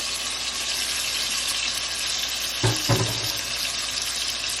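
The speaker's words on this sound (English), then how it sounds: "I'm going to add my coconut milk." Coconut milk poured into a pot of boiled pumpkin and saltfish gives a steady wet hiss and bubbling close by, with two brief louder splashy pulses near the end and no talking.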